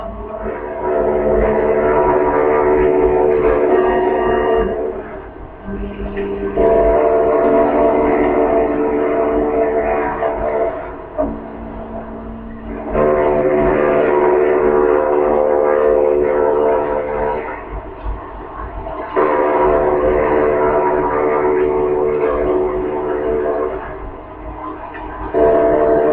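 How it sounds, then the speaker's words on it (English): Deep horns of the Queen Mary ocean liner blare in long sustained blasts at the New York waterfront, four loud drawn-out tones separated by brief gaps, with no talk. "The Queen Mary's sirens are silencing the busy New York waterfront for miles around."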